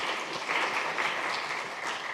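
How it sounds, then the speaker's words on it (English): A conference audience applauds the organizers, an even, continuous crowd clapping that holds at a moderate level for its whole short length with no talk over it. "I would like everyone to give a round of applause to the organizers"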